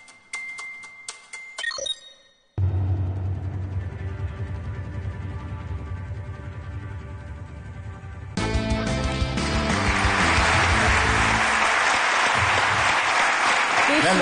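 A studio audience on a Turkish television game show breaks into sustained loud applause after a chiming jingle, the clapping swelling fuller and stronger toward the end.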